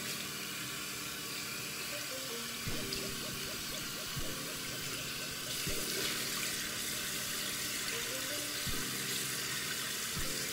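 Tap water runs steadily into a sink as a soapy washcloth is rinsed and rubbed under the stream, with soft squeaks and wet handling sounds over the continuous flow, no talking.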